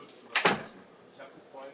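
A motorhome toilet door, in a Burstner Ixeo 690G, is swung shut with a brief close whoosh and soft knock, heard once nearby with faint voices around it.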